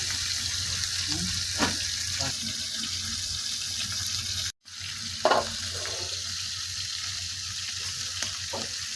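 Chabila fish fry in hot oil with a quiet, steady sizzle and faint crackles, broken by a brief pause partway through.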